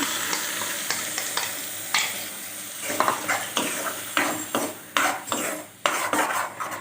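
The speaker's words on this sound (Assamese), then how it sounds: "ইয়াতে আমি যিটো পেষ্ট বনাই থৈছিলোঁ বিলাহী আৰু পিঁয়াজৰ, এইখিনি ঢালি দিম।" Tomato and onion paste poured into a hot pan sizzles loudly, with repeated scraping and clinking of a spoon stirring against the pan at close range.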